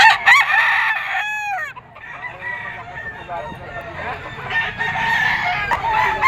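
Roosters crow loudly and repeatedly at a busy chicken market, with nearby clucking and overlapping crows from several birds while people talk in the background.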